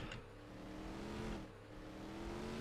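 A vehicle engine in Farming Simulator 19 rumbles steadily throughout, with a brief swell as it revs before settling back to a continuous drone.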